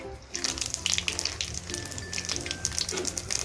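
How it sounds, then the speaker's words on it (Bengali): Nigella seeds (kalo jeere) go into hot oil as a tempering, crackling and sizzling close by in quick, spattering pops that keep going throughout. "অবশিষ্ট যে তেল আছে ওর মধ্যে আমি ফোড়ন হিসেবে দিয়ে দেব হাফ চামচের মতো কালো জিরে"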